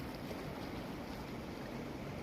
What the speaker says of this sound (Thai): แล้วก็ชม คลื่นน้ำซัดฝั่งทะเลสวยๆ นะครับ